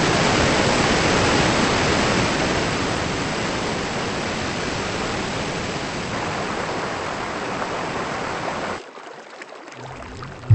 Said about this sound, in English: the Somavahini river, joins the Bhadra river and flows with all its grandeur to the Bhadra dam